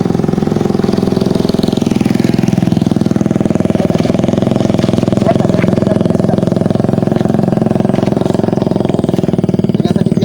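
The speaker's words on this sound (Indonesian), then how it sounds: "Kita lihat, ini ada kendaraan lewat." A vehicle engine runs steadily and close by for the whole stretch, a loud continuous mid-pitched drone like a motorcycle or small engine rolling past, with no speech over it.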